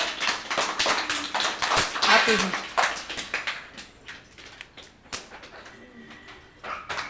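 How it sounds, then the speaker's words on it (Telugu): Children clapping their hands together in a group, a scattered burst of quick claps that trails into a few taps, with talk mixed in. "అందరూ ఒకసారి క్లాప్స్ కొట్టండి."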